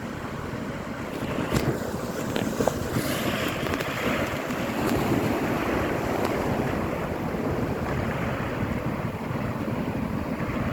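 Ocean waves breaking on a clean-bottomed beach at low tide, a steady broadband wash of surf with wind noise buffeting the microphone, continuous and moderately loud from start to finish.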